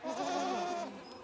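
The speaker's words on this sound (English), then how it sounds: "They're goats, a 200-plus herd" A goat from a farm herd of more than two hundred lets out a single loud, close bleat lasting about a second, with no talking over it.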